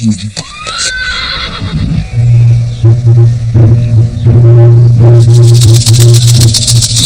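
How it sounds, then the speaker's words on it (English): Mongolian racing horses whinny loudly and close, one long neigh followed by snorts and rattling movement, with someone talking over the sounds. "These good horses we're seeing here that are going to run in the Nada"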